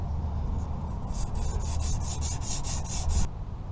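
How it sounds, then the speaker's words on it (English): Fine-grit sandpaper rubs lightly across a car's brake rotor in a steady run of short back-and-forth strokes, close and moderately loud, then stops abruptly. "I went ahead and got a little finer grit paper. Now I'm just gonna lightly sand this."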